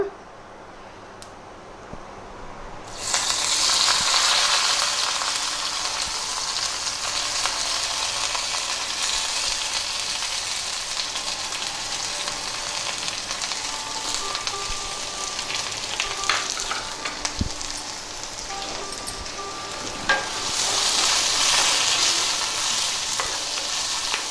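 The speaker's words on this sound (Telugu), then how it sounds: "ఉల్లిపాయ ముక్కలు వేగుతున్నాయి కదా" Curry leaves and chopped onion pieces sizzle steadily in hot oil, with a loud continuous frying hiss that swells after a few seconds and carries on throughout, with faint stirring noises.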